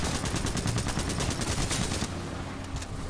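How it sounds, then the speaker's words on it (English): Rapid submachine gun fire in the Titanfall 2 shooter, a dense automatic burst of shots lasting about two seconds, then fainter scattered shots and game sounds. "look how quick that killed him then. And that's not amped either, that's just the way the submachine gun was"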